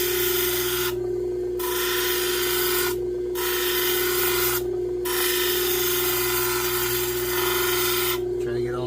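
Lapidary machine grinding the rough edges off a Kernite stone, a steady close rasping drone with a constant motor hum, broken by three short pauses where the stone is lifted away.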